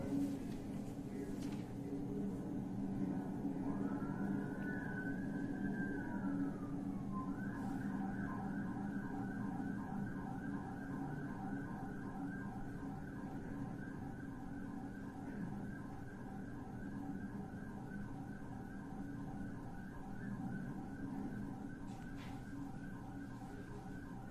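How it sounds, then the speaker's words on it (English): A police siren wails up and down, then switches to a fast, steady yelp that continues over the low rumble of a moving vehicle. "There's the siren on fully."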